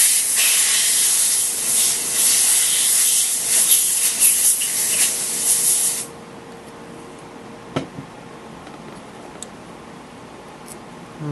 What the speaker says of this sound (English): spray this with some air.